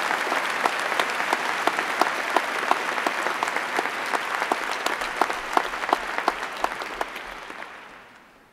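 A large audience at a university graduation ceremony applauds the graduating class with steady, loud, dense clapping that carries on for several seconds before fading out.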